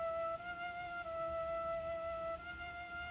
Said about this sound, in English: Cool little flute sound.